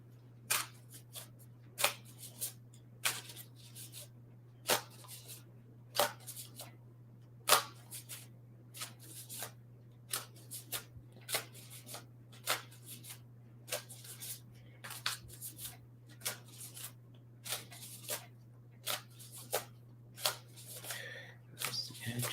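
Playing cards are shuffled and flipped repeatedly in quick, crisp bursts spread across the clip, each a short papery snap, with a steady low hum underneath and no clear talk.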